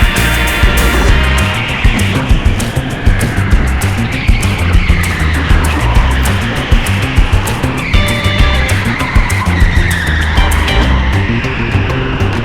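Go-kart tyres screech around corners at TeamSport Eastleigh over a loud, constant buzz of kart engines, squeals rising and falling with each turn.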